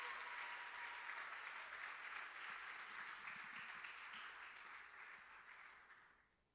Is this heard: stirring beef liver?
no